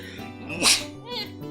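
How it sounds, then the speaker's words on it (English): A single sharp sneeze bursts out close to the microphone, right in the middle of someone talking. "Sorry, sneeze."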